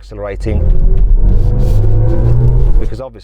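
Artificial drive sound of a BMW i7 electric car, composed by Hans Zimmer: a swelling, layered synthetic hum with rising tones over a deep rumble, building for about three seconds and then cutting off.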